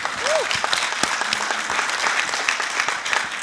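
An audience at a car-dealer internet sales talk claps in a sustained, dense round of applause lasting a few seconds at even loudness, with a brief voice sound near the start.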